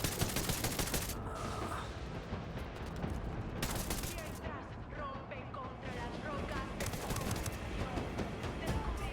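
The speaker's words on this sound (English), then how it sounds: "Taking fire from inside the hacienda." Bursts of rapid gunfire ring out from inside a hacienda in Ghost Recon Wildlands, sharp volleys repeating over a dense, noisy battle mix while voices talk throughout.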